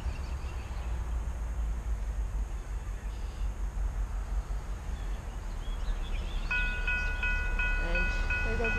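A 14-car freight train rumbles past with steady low-pitched rolling noise, and near the end a high ringing tone sounds repeatedly over it, like crossing bells.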